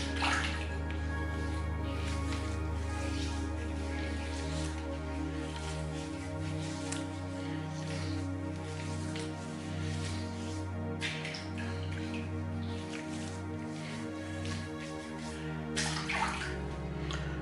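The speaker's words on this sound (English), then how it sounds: "let's really wet the face." Water runs and splashes steadily at a sink as the face is wetted before a shave, a continuous close rush with occasional louder splashes.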